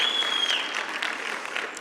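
A graduation commencement audience applauding, a continuous dense patter of many hands clapping that slowly fades.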